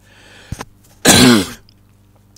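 A single loud, harsh cough erupts close to the microphone, preceded by a small throat sound, with near silence around it.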